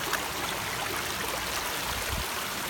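Sulfur water flows steadily at a fishing spot, a constant broadband rush like a small stream close by, with no talk over it.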